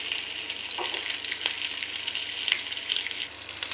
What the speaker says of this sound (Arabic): هسه جاي نقلي الدجاج